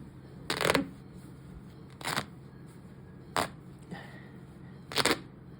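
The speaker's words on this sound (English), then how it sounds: "Always pull the fabric, and all the thread they pop up with the sound like this." Threads popping free as tie-dyed fabric is pulled apart, heard as four short, sharp snapping bursts spaced about a second apart over a quiet background.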